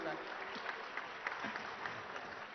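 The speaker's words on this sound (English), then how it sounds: "a louder round of applause will be great." An audience at the Telangana Rising Global Summit 2025 conference applauds, a faint, distant, continuous patter of clapping with speech faintly mixed in.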